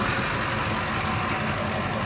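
LB7 Duramax diesel pickup idling at the roadside, a steady low rumble with a constant mechanical drone and no change in pace, close and continuous with no talk.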